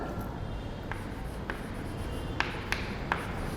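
A pen scratches across paper in a steady faint rustle, with a few small taps as strokes begin, close and quiet with no talking.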